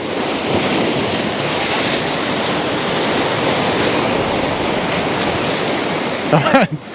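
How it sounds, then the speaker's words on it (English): Ocean waves pound a rugged coastline in blustery wind, a steady roaring wash of surf that fills the air for several seconds before a short burst of sound near the end. "I'm having to keep an eye on those waves."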